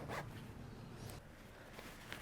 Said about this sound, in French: maintenant, je vais fermer ma fermeture éclair